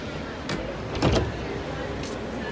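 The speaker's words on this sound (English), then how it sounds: "So the doors will close automatically after the button was clicked" Adelaide Metro Glenelg 200 Series tram doors slide shut automatically, a short motorised whir and thud midway over a steady interior hum, with brief clunks before and after.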